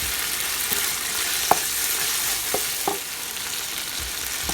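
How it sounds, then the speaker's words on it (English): Ground beef and onions frying in a pan with chopped potatoes being added, giving a constant close hiss of sizzling fat broken by a few soft knocks and thuds of food and utensil, with no voices. "I'm going to now add the chopped up potatoes."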